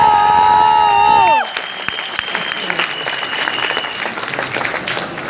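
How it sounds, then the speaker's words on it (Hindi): Audience at a youth and entrepreneurship presentation breaks into applause that lasts a few seconds after a sustained musical chord fades, with scattered claps trailing off. "आपने ताली इसलिए बजाई है कि आलोक टंडन बस करो"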